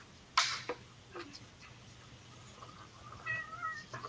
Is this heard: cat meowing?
yes